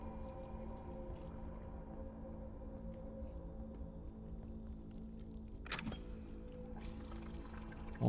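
Faint pouring, trickling water in the stealth horror game Edge of Sanity, a quiet steady flow with low hum underneath and a brief splash-like burst near the end, no talk.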